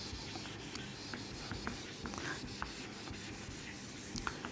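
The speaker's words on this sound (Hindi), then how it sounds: "ये तो हो गया, हम मिटा दिए इसको।" Continuous scratchy rubbing of an eraser or duster across a board, steady and close, with faint squeaks and taps scattered throughout.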